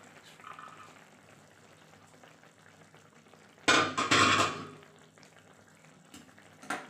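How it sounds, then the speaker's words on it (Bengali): A lid is lifted off a pot of simmering fish curry in a home kitchen, making a short clattering burst of metal over faint background bubbling, with a small clink afterward. "এবার আমি ঢাকাটা তুলে দেখছি কেমন হয়েছে"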